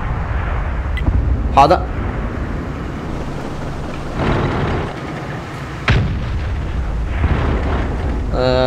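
Tank cannons boom in World of Tanks, several deep, heavy blasts at irregular intervals under a steady rumble of engines, with someone talking briefly over the battle.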